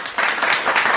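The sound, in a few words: applause welcoming a trekking companion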